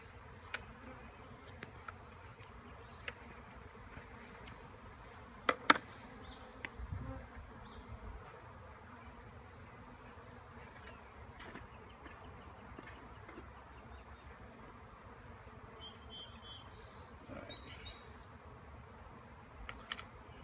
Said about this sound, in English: I have some bees inside here